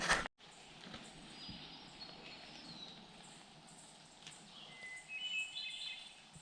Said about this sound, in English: This is for the wood thrush in the background.